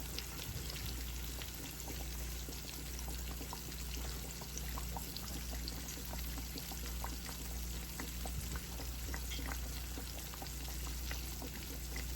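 Catfish fillet frying in hot oil, a steady dense sizzle and crackle holding loud and continuous throughout with no talking.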